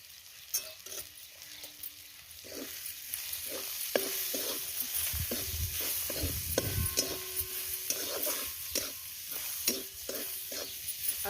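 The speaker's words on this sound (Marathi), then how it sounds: "चांगलं मिसळून घ्यायचं आपल्याला चटणी मीठ हळद टाकलेलं" Corn chivda is stirred with chutney, salt and turmeric in a pan over a wood-fired stove, giving steady scraping strokes over a soft continuous sizzle, close and alone with no talk.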